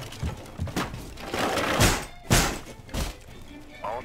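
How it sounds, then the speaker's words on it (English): Weapon reload in Rainbow Six Siege: a run of hollow mechanical thunks and clacks, close and fairly loud, several distinct clicks and thuds spaced unevenly, with faint game noise beneath. "I'm reloading!"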